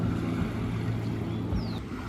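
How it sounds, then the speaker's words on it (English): Boat engines drone steadily on Lake Atitlan in the quiet early morning, a low continuous motor rumble heard from a distance with no voices. "you can hear when the boats start going because it's so quiet here"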